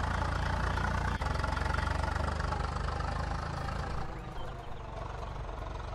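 Modified tractors idle in a large convoy heading to Fatehgarh Sahib, giving a dense, steady low rumble that holds close and loud with one sharp click early on, then eases slightly.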